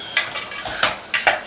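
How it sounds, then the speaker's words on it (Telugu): Rice and moong dal for pongal stirred in a pan, several quick close scraping strokes of a spoon over dry grains, each a short gritty swish with faint metallic clicks. "ఇలాగ రైస్, పెసరపప్పు వేసిన తర్వాత కలుపుకోవాలి."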